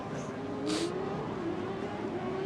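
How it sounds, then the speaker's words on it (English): A Formula Student race car running unsilenced with no exhaust fitted screams at high revs in the distance, its engine note rising and falling steadily as it laps, faint and continuous. "Now listen to that, unsilenced. It sounds like a old Ferrari Formula 1 car."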